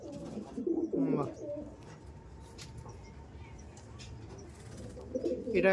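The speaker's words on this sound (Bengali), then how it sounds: "এটা ওখানকার ফেমাস পায়রা, টাইগার ব্রিড বলে ওকে" Soft cooing of Tiger breed pigeons close by, low throaty calls rising at the start and end, with faint rustling and background noise between.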